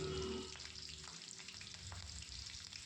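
Green chillies frying in hot oil in a pan for egg bhurji, a steady close sizzle with a brief louder burst at the start and occasional soft stirring clicks, no voices.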